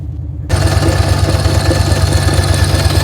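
A lawn mower engine catches after a brief quiet moment, then runs at a steady, loud idle close by, a throbbing low pulse with continuous mechanical rattle.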